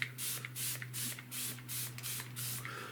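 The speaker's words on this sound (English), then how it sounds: "I don't want to oversaturate this, but I'll give it a bit of a spray." A spray bottle mists water onto cartridge paper in a series of about seven short, even hissing bursts, close up over a low steady hum.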